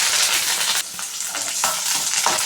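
Curry leaves, cumin, small chillies and onion frying in a pan for chaudakaya curry, a steady loud sizzle with stirring scrapes throughout and no talk.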